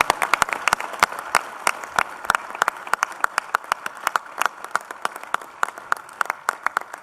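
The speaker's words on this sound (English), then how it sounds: "if you could give him a big round of applause." An audience at a plenary session of a CMS COP conference gives a round of applause. Many hands clap steadily and moderately loud throughout, with no speech.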